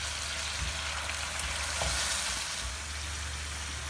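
Noodles sizzle and fry with ginger and garlic in a pan, a steady close crackling hiss with soft stirring scrapes and brief louder bursts partway through, and no talking.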